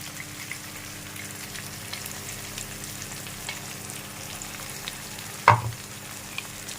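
Kara chutney sizzles and fries in a pan with a soft steady crackle, with a brief louder scrape of stirring near the end.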